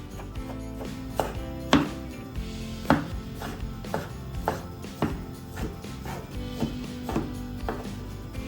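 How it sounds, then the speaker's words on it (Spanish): A knife chops a pound of bacon into small squares on a board for pasta carbonara, a steady series of sharp, close knocks and thuds, one after another. "Voy a utilizar entonces una libra de tocineta y voy a cortarla en cuadros pequeños."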